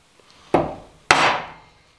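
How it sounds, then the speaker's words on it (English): Two sharp chisel strikes into the end grain of a timber frame brace, each a loud woody crack with a short splintering tail, about half a second apart and close by. "when you're chiseling down this stuff"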